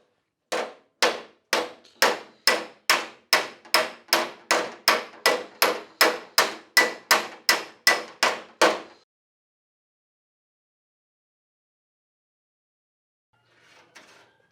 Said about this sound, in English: hammering the welds within that blue zone. And I want to hear that dinging sound